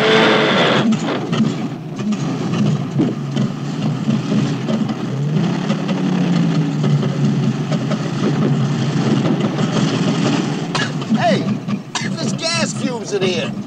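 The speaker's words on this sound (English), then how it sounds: "That means the engine's still running." Car engine in the film Carbon Copy (1981) idling with a rough, low rumble, steady and close for the whole stretch, while people talk continuously over it.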